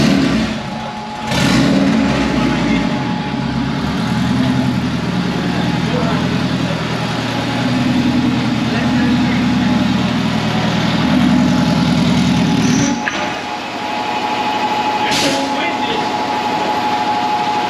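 A turbocharged Honda K20A engine runs on a dyno, droning loud and steady with a rising rev that holds for several seconds, then drops sharply back to a rough idle.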